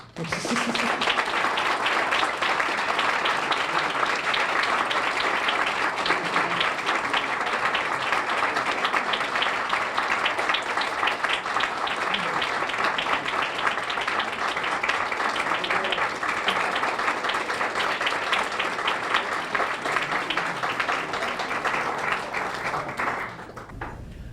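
An awards audience applauds warmly for about twenty seconds, a dense, steady wash of clapping that holds level before tapering off at the end.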